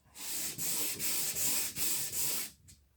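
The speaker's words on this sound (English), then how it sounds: "So just simply sand with the grain of the wood." Sandpaper rubs over wood in steady back-and-forth strokes, about six even passes, close and clear, with no talking.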